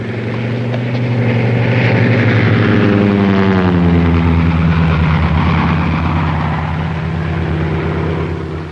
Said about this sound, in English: Don't that plane look familiar?